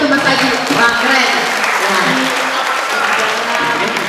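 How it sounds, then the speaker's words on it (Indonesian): An audience at a school podcast event gives Mas Aji a short, close burst of dense hand clapping, with voices talking underneath. "Tepuk tangan dulu untuk Mas Aji."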